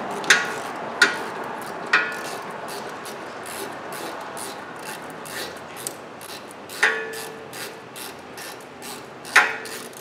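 A ratchet backs out the 14mm rear brake caliper bolt on a 2010 Nissan Murano: a handful of sharp, separate metallic clicks spaced irregularly, close and clear over quiet background noise.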